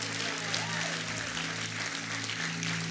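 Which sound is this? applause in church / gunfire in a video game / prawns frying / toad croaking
applause in church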